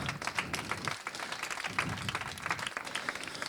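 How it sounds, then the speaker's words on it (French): Audience at an AI and HR grand prize award ceremony claps for the prize-winning teams, a dense, steady round of applause filling the room at close range with no voices over it. "On peut les applaudir."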